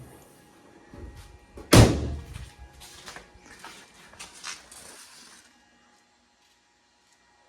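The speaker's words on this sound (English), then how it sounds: "Let's put this hood down." The hood of a BMW F30 sedan is shut with one sharp, loud slam, preceded by faint shuffling and followed by light rattles and clicks before the sound falls quiet.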